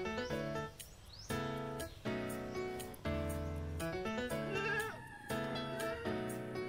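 Goats bleat loudly and repeatedly as they are loaded onto a boat, with long wavering cries from several animals following one another closely and overlapping, close by and with no talking.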